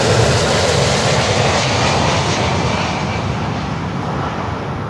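DHL Boeing 767-300 jet arriving at Miami airport near runway 9, a loud, continuous broadband engine roar that holds steady and fades slightly over a few seconds.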